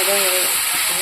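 Spices fry in a pan for a soybean and potato fry, a loud, steady sizzling hiss. A voice speaks briefly over it at the start.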